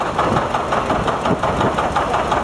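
A 730 diesel tractor on rice tires rolls in a small-town parade, its engine close and loud in a steady, throbbing chug with no voices over it.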